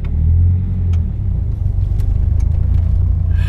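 A car out on a short test drive, its engine rumbling steadily close by with a slight swell in revs near the start and a brief brighter noise at the end, no talking.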